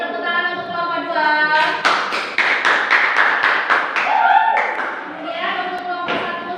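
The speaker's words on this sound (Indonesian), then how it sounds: "Beri tepuk tangan untuk kelompok 2." A class claps for a presenting group in a rhythmic, patterned clap of sharp, evenly spaced beats, with a voice talking before and after.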